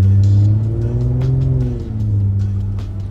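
A Jaguar F-TYPE engine in dynamic mode revving hard, a loud close throaty growl whose pitch climbs and then falls back, with a few sharp crackles over the top.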